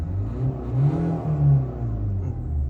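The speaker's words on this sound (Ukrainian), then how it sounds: "Спробуємо погазувати." A 2015 Renault Megane 3 1.5 diesel engine revving up and down several times, a rough mid-low drone rising and falling in pitch, close and fairly loud.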